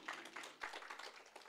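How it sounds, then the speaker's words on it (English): Brief, faint audience applause at a government launch event for a child poverty and child support grant programme, scattered hand claps blending into a light patter. "Let's give them a round of applause for that."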